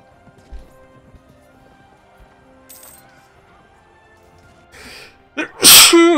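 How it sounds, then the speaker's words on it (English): A person lets out one loud, sharp sneeze close to the microphone near the end, after a quiet stretch of soft background music and a few small clicks. "Another sneeze."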